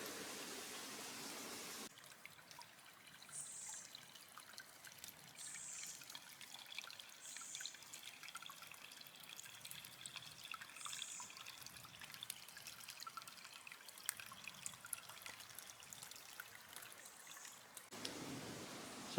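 Stream water flows and trickles through a Dartmoor wood, a faint, steady babbling wash that continues without a break and with no voices.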